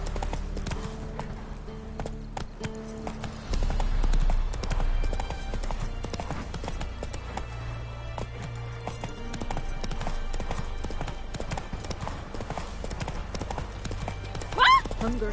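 Roach, a horse in The Witcher 3, gallops with a steady, rapid clip-clop of hooves, close and prominent over a low rumble of game ambience.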